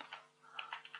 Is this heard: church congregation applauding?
no